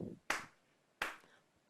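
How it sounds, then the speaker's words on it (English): An instructor claps out a slow breathing rhythm, two sharp hand claps spaced about three-quarters of a second apart, close and clear against a quiet room. "So my clapping is going to go like this."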